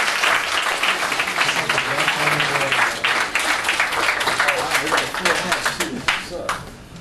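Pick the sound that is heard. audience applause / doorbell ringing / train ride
audience applause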